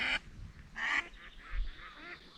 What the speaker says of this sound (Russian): Вот утка летит.